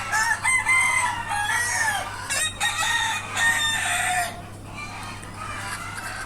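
Several native laying hens cluck and crow close by on a small chicken farm, overlapping calls for a few seconds before settling into quieter background noise.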